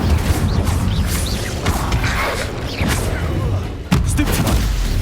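Fiery spell cast in Hogwarts Legacy: dense rumbling bursts and crackling blasts fill the clip continuously, with a sharp hit near the end, heard under a busy game soundscape.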